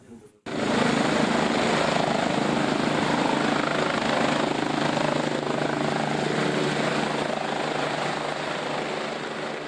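A helicopter flies close by at sea during a lifeboat rescue training hoist exercise, its loud rotor and engine roar starting abruptly and holding steady throughout, with voices faintly underneath.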